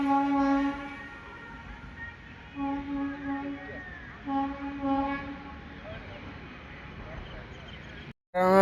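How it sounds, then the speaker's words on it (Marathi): A train horn sounds three long blasts with short gaps between them, loud and fairly near over a low rumbling background. "तुम्ही बघू शकता हॉर्नचा आवाज येत आहे"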